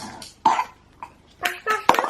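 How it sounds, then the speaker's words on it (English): A baby coughs in a few short, separate bursts spread over a couple of seconds, close by and moderately loud. "Cough, cough, cough."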